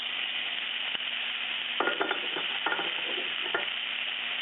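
Green onions frying in butter in a pan for venison marsala, a steady close sizzle with a few crackling pops and stirring scrapes midway.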